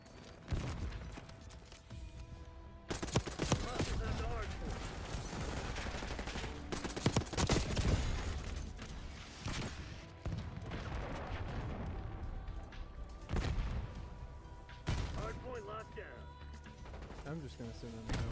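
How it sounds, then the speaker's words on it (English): Rapid-fire Tanto .22 gunfire in Black Ops 6, loud continuous bursts with crashes and mechanical clatter throughout, mixed with game effects and voices. "I don't know what attachments to use with rapid fire, because this class is basically just a rapid fire"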